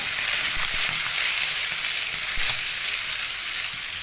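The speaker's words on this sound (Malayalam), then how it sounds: "നമ്മളിതാ മീനൊക്കെ മറിച്ചിട്ടിട്ടുണ്ട് നല്ലോണം നെരിഞ്ഞ് വേവട്ടെ" Fish frying in a pan with crushed garlic and curry leaves, giving a loud, constant, close sizzle with occasional pops and soft stirring knocks, with no talk over it.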